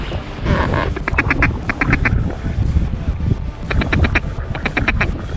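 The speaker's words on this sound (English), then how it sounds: "Oh, two ducks. Two ducks on the left." Ducks quack in short repeated bursts, two clusters of calls over wind noise outdoors on a North Dakota hunt, moderately close.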